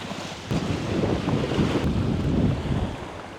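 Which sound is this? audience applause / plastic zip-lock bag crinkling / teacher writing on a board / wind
wind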